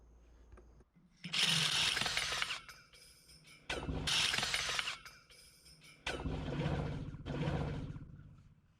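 A drill bit grinds loudly through a steel well casing at the bottom of a water-filled trench, in three long harsh bursts separated by brief pauses, close and rough.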